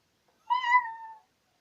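A child imitates a cat, giving a single drawn-out meow that rises and then trails off, close and clear against silence.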